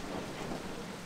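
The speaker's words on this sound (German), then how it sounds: "Und das ist hier ein bisschen laut, der Regen." Rain and rumbling thunder from the video game Torchlight 2 make a dense, steady wash of sound throughout, with no voices.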